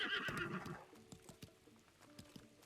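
A horse in the video game Breath of the Wild gives a short bright whinny at the start, followed by scattered clip-clop hoofbeats, fairly faint.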